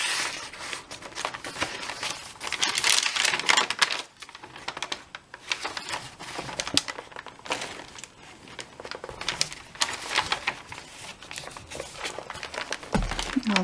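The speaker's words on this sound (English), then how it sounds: "I like the sound of these crinkly pages" Crinkly tea-dyed paper pages of an extra large handmade journal being turned, with irregular crackling rustles and soft flutters that rise and fall in bursts, close up and without talk.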